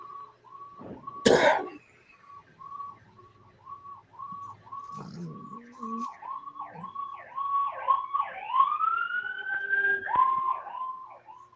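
A wailing siren rises and falls repeatedly in the distance in Monroeville, joined by a second siren, with a cough near the start.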